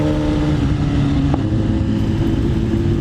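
A BMW S1000 RR superbike engine drones steadily while riding on a long road trip, a loud continuous hum with some wind rush, close and unbroken, with no talking.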